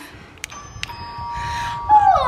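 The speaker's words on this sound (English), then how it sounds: "Have you heard what the doorbell sounds like?" Two clear doorbell tones ring out as a ding-dong chime inside a home, each note sustained and ringing over quiet room noise, followed by a brief bright electronic tone.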